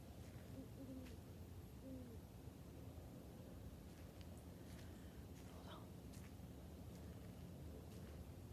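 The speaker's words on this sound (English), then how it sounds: "I'm gonna finish up our time with an owl." An owl hoots softly a few times at a nature preserve, faint and distant over a constant low background roar, with a few scattered clicks and rustles.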